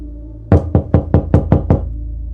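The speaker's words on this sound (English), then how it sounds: "The door knocked on us" Knocking on a door in a ghost story: seven sharp, evenly spaced raps in quick succession, close and loud over a low steady hum, with no voices.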